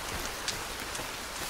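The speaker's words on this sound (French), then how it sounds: "Il pleut, trop bien. On a de l'eau." Steady rain falls in the survival game Sons of the Forest, a dense even hiss of drops with a few faint individual patters, alone without talk.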